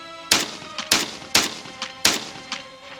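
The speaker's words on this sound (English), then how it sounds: "But repeated loud bangs are much more likely to be gunfire." Five sharp gunshots crack out one after another at a steady pace, each loud report followed by a brief echoing tail.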